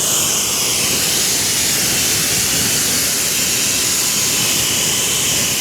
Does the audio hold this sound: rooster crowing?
no